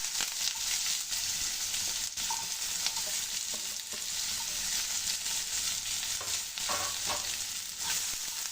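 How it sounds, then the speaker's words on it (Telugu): Onion, green chilli and curry leaves frying in oil with cumin and mustard seeds, a constant bright sizzle broken by scraping stir strokes, close and steady, with no voices. "ఇప్పుడు దీన్ని కలుపుకుంటూ కొంచెం ఫ్రై చేసుకుందామండి"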